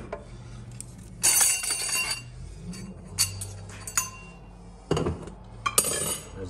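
Metal parts from an 8L90 automatic transmission clink and clatter during a teardown, with a few sharp knocks and scrapes spread irregularly over quiet shop background as a piston is pulled out.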